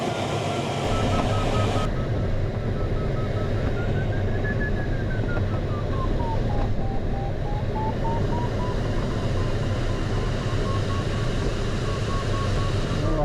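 A tow plane's steady, loud engine drone fills the whole stretch, with a faint tone slowly rising and falling above it and no pauses.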